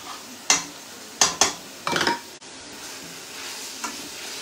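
Onion and garlic fry in a pan. A faint sizzle runs under several sharp utensil scrapes and clinks, heard up close with no talking.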